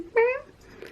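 A pet cat gives one short, clear, close meow that rises a little and fades into quiet room noise.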